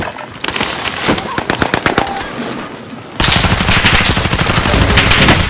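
Bursts of automatic gunfire from a first-person shooter video game, rapid sharp shots at first, then a dense, continuous loud barrage of fire.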